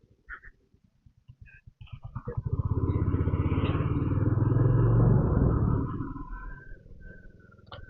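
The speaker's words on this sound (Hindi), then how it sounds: "जब टनल के अंदर से बाइक जाती है ना, तो जो बाइक की आवाज होती है वो एको करती है" A motorcycle approaches and roars past inside a tunnel beneath a railway line, its booming engine rumble echoing as it swells, peaks, then fades as it moves away.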